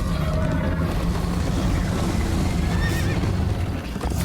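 A horse from the video game Minecraft Story Mode whinnies and gallops in a chase, a dense continuous rumble of hooves and motion with a brief neigh, loud and close, with no talking.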